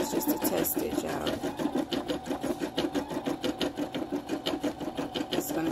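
An embroidery machine stitches out a small black Eye of Horus test design, a fast, even mechanical chatter of needle strokes pulsing steadily and close throughout.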